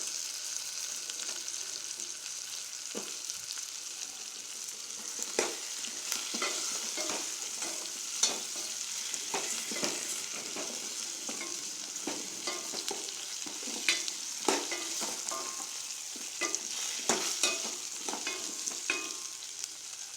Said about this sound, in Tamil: இப்போ நம்ம அரிஞ்சு வச்சுருக்க முருங்காயை போட்டு வணக்கிக்குவோம்.